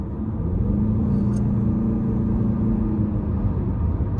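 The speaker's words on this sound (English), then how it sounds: "We'll give it a little throttle here." Cabin rumble of a 2023 Chevy Malibu LT with a 1.5 turbo four-cylinder and CVT under light throttle, a steady low engine drone and road hum that holds evenly throughout, with no talking.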